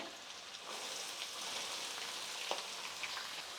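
Onions hitting hot oil in a pan for a puliyogare avalakki dish, giving a dense, even hissing sizzle like light rain, moderately quiet and steady, with no voices.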